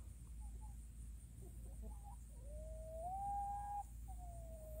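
On a homestead farm, chickens make soft clucks and chirps, followed by one longer, rising whistle-like call, faint against a low background hum.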